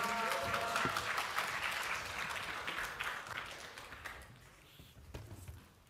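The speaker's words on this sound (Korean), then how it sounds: "큰 박수로 환영해 주시면 감사하겠습니다" A church congregation applauds to welcome a visiting middle-school preacher, a dense wash of clapping that gradually thins and tapers off, leaving a few scattered claps and faint room noise.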